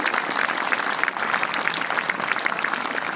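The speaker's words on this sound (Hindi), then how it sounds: "जोरदार तालियां बच्चों के लिए।" Steady, dense applause from a school audience at a student medal ceremony, loud and continuous throughout with no talk over it.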